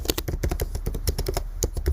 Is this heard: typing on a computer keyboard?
yes